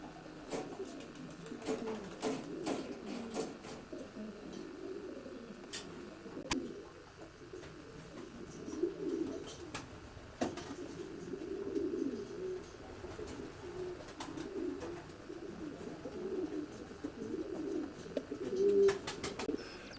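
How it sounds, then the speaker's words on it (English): Racing pigeons in a natural loft with nest boxes, their low cooing continuous and layered throughout, with scattered sharp clicks and wing or perch knocks nearby. "How many stock pigeons you keep, Bob?"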